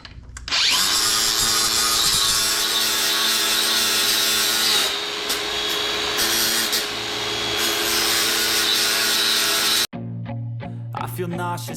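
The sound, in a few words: grinding down metal on Dana 60 axle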